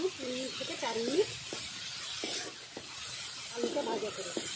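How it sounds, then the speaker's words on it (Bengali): Potatoes fry in oil in a pan, giving a soft, steady sizzle under intermittent stirring, while a voice speaks briefly now and then. "আলুটা ভাজা করে।"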